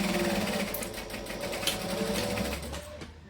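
A sewing machine back stitches on a camera bag project, its motor whirring steadily and close for about three seconds before stopping.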